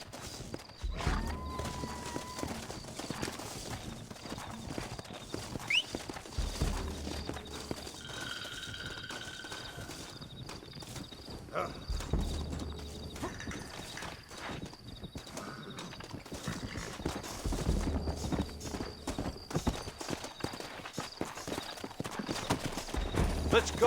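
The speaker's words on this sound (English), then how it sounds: "Looks like Carlos left us some horses." Horses' hooves clip-clop in the Western video game Red Dead Redemption, walking and breaking into a gallop with a whinny, mixed with game music and bursts of speech.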